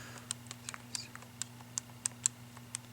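Graphing calculator keys pressed while a function is entered, a quick irregular run of light plastic clicks, close and fairly quiet over a steady low hum.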